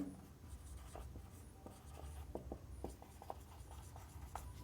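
Pen writing on paper during a Bengali grammar lesson, a steady scratchy scribble of short strokes and taps, close and fairly quiet, with no talk.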